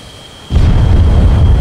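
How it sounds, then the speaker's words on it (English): Distant explosion in the video game Arma 3, arriving as a sudden deep boom after a brief quiet and then rolling on as a loud, sustained low rumble. "You might see an explosion off in the distance before you actually hear it."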